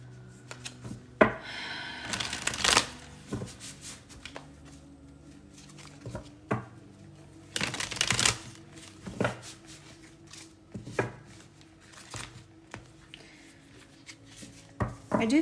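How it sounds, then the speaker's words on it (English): Tarot cards being shuffled in quiet surroundings, heard as repeated soft riffling bursts and papery flutters with short pauses between them, all close up. "let's pull some tarot cards now"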